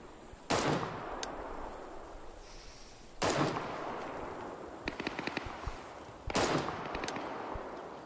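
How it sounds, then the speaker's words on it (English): Gunfire rings out in the online survival shooter Deadside: three loud, sharp bursts spaced a few seconds apart, with quieter rapid shots between them and no talking. "he moved right as I was shooting"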